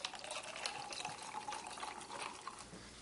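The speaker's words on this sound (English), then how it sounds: "A little bit of sparkling water." Sparkling water poured into a glass, a soft fizzing, trickling stream heard close and faint with no talking.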